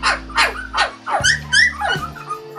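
Young village puppies of a fluffy white Bac Ha breed cry and yip in quick succession, a run of close, loud whimpering calls and short squeaky barks that rise and fall over a few seconds.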